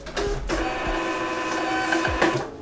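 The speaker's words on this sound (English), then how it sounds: "you need to get a printer for your house. A thermal label printer" A thermal label printer runs off a shipping label for an eBay mailer, a steady mechanical whir with brief clicks and feed pulses at the start and end, close and fairly loud with no talking.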